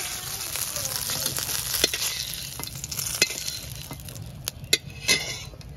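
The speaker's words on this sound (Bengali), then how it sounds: "কাঁচা লঙ্কাটা ভেজে নেব।" Green chilies fry in hot oil for a chicken dish, making a constant crackling sizzle with sharp spatters and spoon taps against the pan, close up with no speech.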